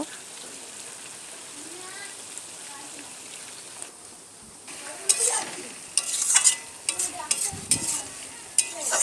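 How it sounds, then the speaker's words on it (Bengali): Garam masala powder is stirred into frying prawns, probably with raw jackfruit. A quiet low sizzle comes first, then louder bursts of scraping and spluttering near the pan in the second half. "এবার দিয়ে দেব গরম মশলার গুঁড়ো, দিয়ে নেড়ে নেব"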